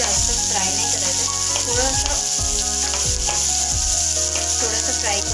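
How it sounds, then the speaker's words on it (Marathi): Onion frying lightly in a little oil for spinach soup, a loud steady sizzle beneath strong tonal background hum, with repeated stirring strokes. "ऑनियनला आपल्याला जास्त फ्राय नाही करायचं"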